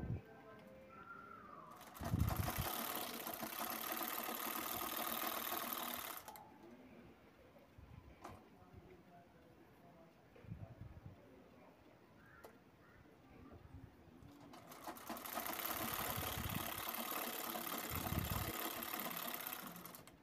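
A sewing machine stitches the last side of a cloth bag in two loud mechanical bursts of whirring, rattling needle action, with a quieter stretch of faint handling and softer sounds between them.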